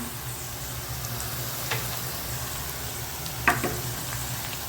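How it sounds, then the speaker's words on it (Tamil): Sliced onions sauté in a pan with curry leaves and green chili for a spicy paneer gravy, giving a close, continuous sizzle broken by a couple of faint stirring clicks. "வெங்காயம் ஓரளவுக்கு வதங்கிடுச்சு கருவேப்பில் ஒரே பச்சை மிளகா"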